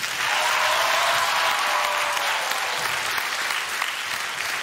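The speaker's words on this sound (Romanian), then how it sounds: "aplauze pentru Răzvan Exarhu!" A television roast audience in a studio applauds a guest, a dense, steady burst of clapping from a large crowd that holds throughout at even loudness with no talk over it.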